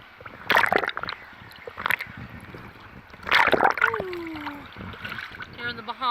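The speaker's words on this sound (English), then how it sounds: "Look at the waves." Ocean waves at a Bahamas beach surge and splash in a few loud, close bursts amid flowing water, with voices talking in between.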